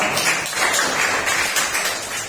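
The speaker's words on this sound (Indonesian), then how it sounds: "Kalau tidak ada, kita tepuk tangan dulu semua." A classroom of students clapping together, a dense, steady patter of many hands filling the whole moment without pause.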